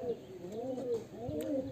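A biscuit-coloured hen pigeon coos softly in a couple of quick wavering rolls, faint and close, with no talk over it.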